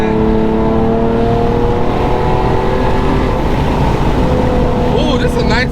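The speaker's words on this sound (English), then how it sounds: "You gotta hear that exhaust." An Infiniti G37 with its muffler and resonator removed drones loudly and steadily from inside the moving car, its exhaust note holding and rising slightly beneath wind noise, with a voice briefly audible near the end.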